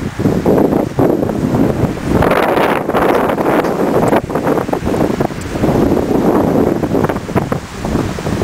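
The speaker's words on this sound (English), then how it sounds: "A little bit windy here today" Strong wind gusts by a lake near a cabin, buffeting loudly and unevenly with roaring bursts across the whole stretch, with some water and leaf rustle beneath.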